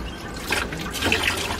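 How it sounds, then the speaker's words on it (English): Water pours and trickles into an aquarium filter box of a garden above-ground pond setup, a steady close liquid splashing that stays fairly even throughout. "The first thing we have to do is fill up the filter box,"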